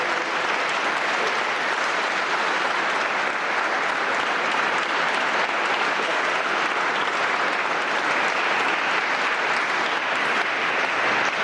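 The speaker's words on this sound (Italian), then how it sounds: "Facciamo un bel applauso al coro dei Preganziol." An audience applauds the Preganziol choir, a steady, dense wash of clapping that holds evenly for the full stretch with no voices breaking through.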